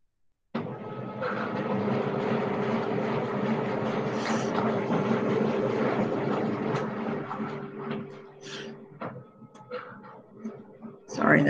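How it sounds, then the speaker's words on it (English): Printer running in the background of a classroom lesson, a steady mechanical whir and rattle lasting about ten seconds before trailing into faint clicks, with no talking. "Sorry, that's a printer."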